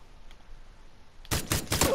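Gunfire in PUBG on the Miramar map, a quick burst of loud sharp shots that breaks suddenly out of near silence near the end.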